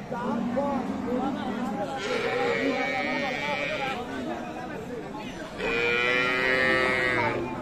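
Friesian cows and calves moo and low repeatedly at a livestock market in Dinajpur, Bangladesh, over a busy outdoor crowd murmur, with people talking nearby throughout.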